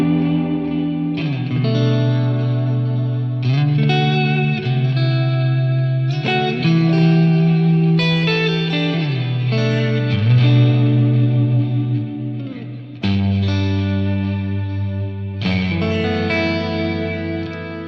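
Electric guitar chords ring out with heavy delay and distortion, notes smearing into echoing repeats, loud and continuous with no voices.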